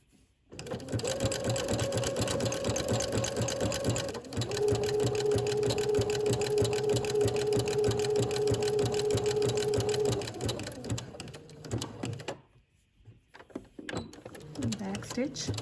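Sewing machine stitching fabric for a maxi dress from a Simplicity 8874 pattern runs steadily at close range for about ten seconds, briefly pausing and changing pitch as it continues, then stops before a few light handling sounds.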